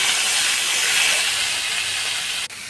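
Ridge gourd goes into a hot pan with frying potatoes and garlic, giving a loud, steady, hissing sizzle close by that cuts off abruptly at the end.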